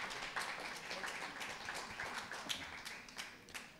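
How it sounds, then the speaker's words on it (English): Applause for sponsors at a steak cooking competition awards event, a scattered round of clapping from a modest crowd, fairly quiet and distant with irregular claps throughout. "let's give them a round of applause for supporting the SCA"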